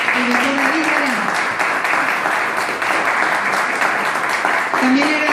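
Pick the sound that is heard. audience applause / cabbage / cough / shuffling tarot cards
audience applause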